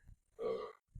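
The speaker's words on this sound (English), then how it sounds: "Excuse me, I burped." A single burp rises near the middle, short and fairly close, with faint low sounds just before and after it.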